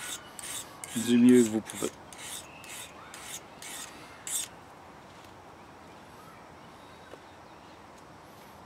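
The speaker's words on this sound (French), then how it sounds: "ça vous permet de d'entretenir votre lame et de refaire votre tranchant" A hand file sharpens a knife blade outdoors in a forest, giving a series of short rasping strokes in quick rhythm, then quieter scraping. Someone speaks briefly over the first strokes.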